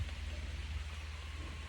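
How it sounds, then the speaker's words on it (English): Rain falls outdoors in a steady, soft hiss of drops with a low continuous rumble underneath, fairly quiet and unbroken, with no voices. "It's fucking raining right now."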